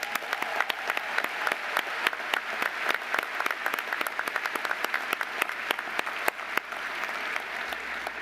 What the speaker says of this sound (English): Please join me in giving the faculty a deserving round of applause.